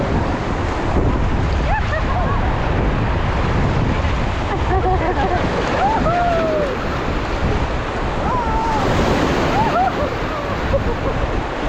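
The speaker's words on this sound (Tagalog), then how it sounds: "Ang lakas po ng wave!" Continuous rushing ocean surf and heavy wind buffeting the microphone, with children's high voices calling out over the roar of the crashing waves.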